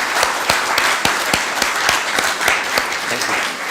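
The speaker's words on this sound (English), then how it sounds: "So I think the round of applause really goes to Sahil." An audience at a community centre anniversary event in Rochdale claps together in a steady, close burst of applause, with individual hand claps standing out throughout and no talking.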